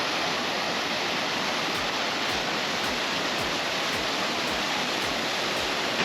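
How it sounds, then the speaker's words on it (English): Water splashes steadily in park fountains in Oslo, a dense close rushing hiss with faint rhythmic pulses running through it. "Playing in the fountains, near the city."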